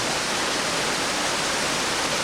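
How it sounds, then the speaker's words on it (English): Small waterfalls splash along a stream inside a mine near Jordan River on Vancouver Island, making a steady, loud, close rush of water with no pauses and no voices. "Some neat little waterfalls in here though."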